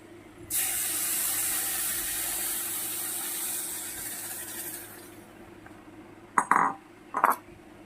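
Milk poured into a hot pan of ghee-fried dalia, giving a loud hissing sizzle that gradually fades. A couple of short metallic clinks from a utensil follow near the end, with no talking.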